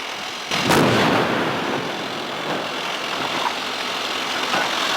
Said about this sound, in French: Le banc est ensuite dynamité pour le décrocher de la paroi rocheuse.